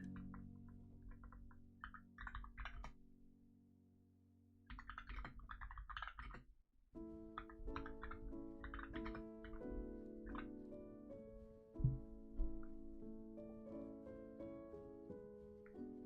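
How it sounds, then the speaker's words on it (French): Keys clatter in quick irregular bursts of typing, with short pauses, over a steady tonal hum in the background. "je vous fais de la ASMR clavier en même temps"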